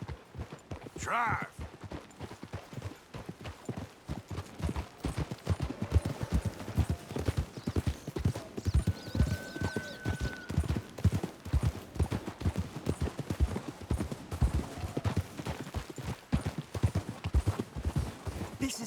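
Horses galloping in the video game Red Dead Redemption 2, a steady, dense drumming of hooves throughout, with a brief spoken line near the start.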